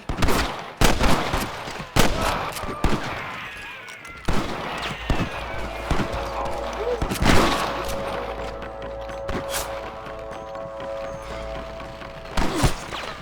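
Gunfire crackles in a Red Dead Redemption shootout, with rapid loud shots and volleys in bursts, some close and some farther away, across a noisy battle.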